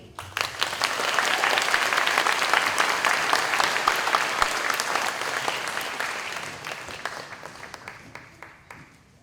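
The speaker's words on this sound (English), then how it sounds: "Let's give them another round of applause." An audience claps at an eighth-grade promotion ceremony, a dense, sustained round of applause that swells quickly, holds steady for several seconds, then gradually thins and fades away.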